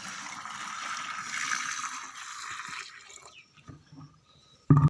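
Water pours with a soft, steady rushing hiss for a few seconds, then thins into scattered trickles and quiet, ending with a brief thump.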